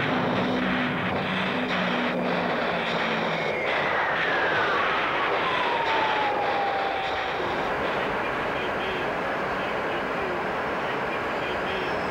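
A Grumman A-6 Intruder jet flies over in a continuous, loud roar, with a whine that sweeps downward as it passes and then trails off into a steady rushing wash.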